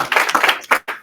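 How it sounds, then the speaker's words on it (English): Audience at a fireside chat on women entrepreneurs in Alaska clapping for the panelists, a fairly close, uneven patter of individual claps with short gaps, fading toward the end. "big round of applause for our panelists"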